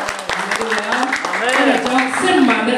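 A congregation claps along in a church service, a quick rhythmic patter of hands heard beneath a voice that speaks and sings through the clip.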